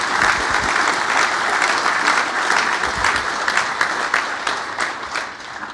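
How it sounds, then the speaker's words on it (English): A breakfast audience at a Men Stand for Life event bursts into steady, sustained applause, many hands clapping together loudly for several seconds before tapering slightly. "I just want to applaud you on that one"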